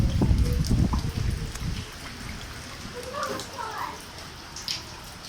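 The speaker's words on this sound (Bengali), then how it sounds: "অনেক প্রচুর বৃষ্টি হচ্ছে যার কারণে রাস্তায় পানি উঠে গেছে" Heavy rain falling in Chattogram, with streets flooding and water entering through a gate, heard as a rough, loud wash with blustery noise at first that settles into a quieter, steady patter of drops.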